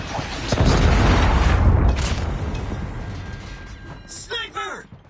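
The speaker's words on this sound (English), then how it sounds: "Predator missile inbound" A Predator missile strike in Call of Duty lands as a heavy, rumbling explosion that swells early and slowly fades, followed by shouted in-game voices over the battlefield.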